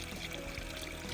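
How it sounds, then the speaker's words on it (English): Water pouring out the bottom of a homestead rainwater harvesting filter system, a steady broadband rush of flowing water, fairly close and continuous for the whole brief moment, with no talk. "here comes the water."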